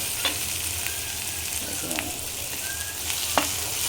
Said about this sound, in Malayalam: ഇതൊന്ന് വഴറ്റിയെടുക്കും ഇപ്പോൾ കളറ് മാറി വരുന്നുണ്ട്